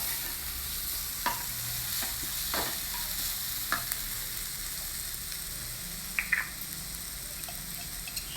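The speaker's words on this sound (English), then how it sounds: "all the other vegetables also one by one, the tomato, beans and carrot, and stir fry them all together" Tomato, beans and carrot stir-fried together in a pan, a steady soft sizzle with scattered stirring scrapes and clicks, quiet and close with no talk.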